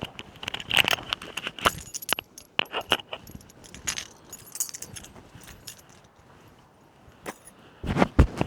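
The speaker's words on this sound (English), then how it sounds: "I'll get my keys out so I don't affect the mic" Keys jingle and clatter in irregular bursts, with sharp metallic rattles close by and brief quieter gaps between.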